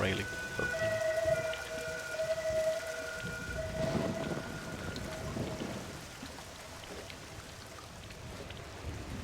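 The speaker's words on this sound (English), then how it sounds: "Oh, it's raining." Steady rain pours in a ghost-hunting adventure game, a constant close hiss of falling water that fades slightly toward the end, with faint tonal game music lines drifting through the first half.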